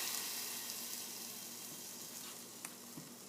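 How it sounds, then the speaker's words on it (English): Egg-soaked bread for French toast sizzling on a hot griddle, a soft, steady hiss heard close with a couple of faint clicks near the end, quiet overall and with no speech. "dunk the bread until it's well coated in the egg mixture, and you're going to place it on the griddle"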